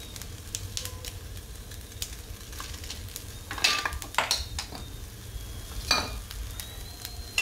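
Fenugreek seeds fry in hot oil in a pan, a continuous soft sizzle broken by a few louder scraping stirs and clinks of a utensil against the pan.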